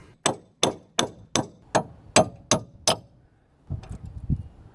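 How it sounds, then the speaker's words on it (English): Eight sharp metallic hammer strikes on a centre punch ring out in a steady rhythm, close and loud, while replacing wheel hub studs on a Ford Fiesta, followed by a softer clattering rustle. "put a centre punch onto there and give it a good hit with a hammer"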